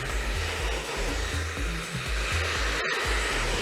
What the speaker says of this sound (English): You want the pressure of the speed of the dryer to actually flatten the hair.